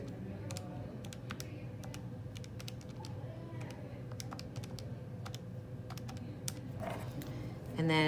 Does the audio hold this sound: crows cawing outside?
no